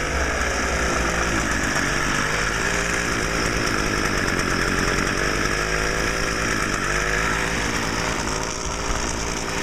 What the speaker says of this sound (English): This has a 27cc engine, very similar to the BG55 leaf blower.